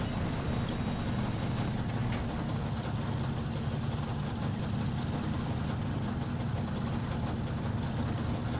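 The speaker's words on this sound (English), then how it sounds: "Oh god, you can hear the engine." A truck engine in the SnowRunner video game runs steadily, a rough, low, continuous drone that holds at a constant loud level from start to finish with no talk over it.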